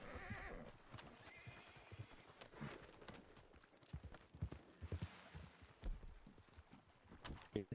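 Quiet, rhythmic clip-clop of horse hooves at a walk in a video game, with a brief whinny and soft background noise.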